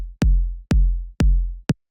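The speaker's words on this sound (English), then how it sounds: "It's just like this sort of big 808 kick." Big 808 kick drum for melodic techno, four deep booming hits about half a second apart, each with a sharp click and a long low tail, the last one cut short, alone and loud.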